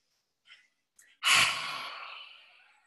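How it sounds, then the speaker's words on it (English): A single forceful lion's-breath exhalation with the tongue out during a yoga flow, a loud breathy whoosh that trails off slowly, preceded by a couple of faint short breaths. "we're going to take a few lion's breaths just to let stuff out"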